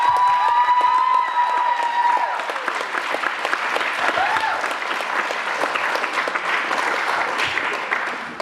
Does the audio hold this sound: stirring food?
no